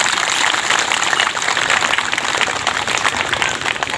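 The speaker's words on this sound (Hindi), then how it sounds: "इसलिए जोर से ताली बजाओ, जोर से चलिए।" An audience claps loudly and continuously at a gathering, a dense, even wash of many hands with no pause, heard close and alone.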